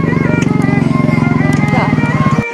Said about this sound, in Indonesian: Hati-hati motor.